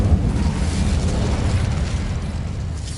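A Hogwarts Legacy Incendio fire spell erupts as a loud, dense whoosh of flame, a sustained roaring burst with a deep rumbling body that holds steady for a few seconds.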